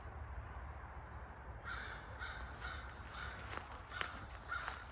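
Crows caw repeatedly in rural woodland on a 10-acre Vermont property. The calls are moderately distant, scattered and irregular, over a low, steady rumble of faraway traffic.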